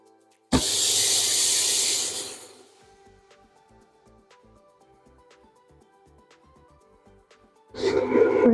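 Buttered cheesy bread hits a hot pan with a loud, close burst of hissing sizzle that lasts about two seconds. It settles to faint crackles, then a second sharp sizzle flares up near the end.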